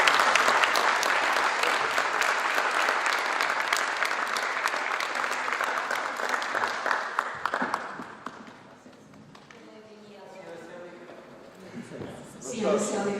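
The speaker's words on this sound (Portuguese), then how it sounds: "Salve de palmas." An audience applauds indoors at a gathering, loud continuous clapping for about eight seconds that then fades out, followed by people talking and a brief swell of noise near the end.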